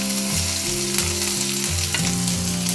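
Onion and curry leaves sauté loudly in hot oil, a steady close sizzle with stirring scrapes, no voices.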